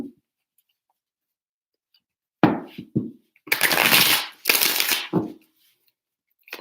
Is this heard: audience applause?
no